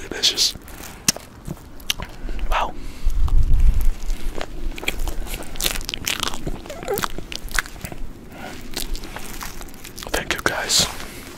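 Roasted marshmallows being eaten at an outdoor firepit, close-up soft bites, sticky chewing and crinkling, with quiet whispered talk and occasional crackles between.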